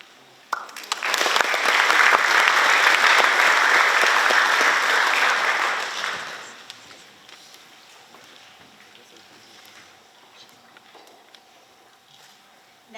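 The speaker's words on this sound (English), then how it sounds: "Clap away." A crowd at an awards night bursts into loud, sustained applause for several seconds, then it fades out to quiet room noise.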